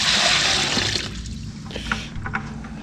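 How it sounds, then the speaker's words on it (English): Water from a new water line pours into a small floor drain in a garage, a loud rushing splash at first that thins to a gurgling trickle with a few drips toward the end. "Pour it in this little drain right here"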